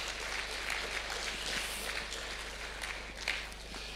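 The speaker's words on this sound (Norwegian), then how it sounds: "La oss gi Eivind en stor applaus." A congregation at a Trondheim church service applauds a welcomed guest, a soft, even wash of many clapping hands with a few sharper claps, heard from a distance.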